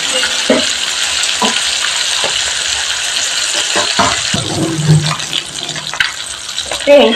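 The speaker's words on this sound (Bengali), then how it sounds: "এই মাছটা একটুখানি ভাজা বাকি আছে" Steady sizzling of bhola fish frying in hot oil, with occasional clinks and scrapes of utensils against the pan.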